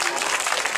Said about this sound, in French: Je voudrais qu'on les applaudisse particulièrement,